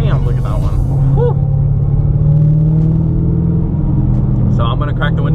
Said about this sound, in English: So I'm gonna crack the window so you guys can hear these beautiful cars.